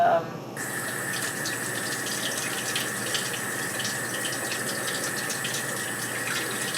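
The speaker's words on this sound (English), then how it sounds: "So what I do is I wash some fresh strawberries." Running tap water streams steadily into a sink while fresh strawberries are washed beneath it, a constant close gushing hiss lasting the whole stretch with no talking.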